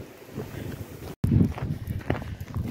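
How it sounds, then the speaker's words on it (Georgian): Strong wind gusts roar and buffet the microphone outdoors at night, a loud, rumbling whoosh that drops out for a moment and then surges back even harder. "ვაიმე ნახეთ როგორი ქარია"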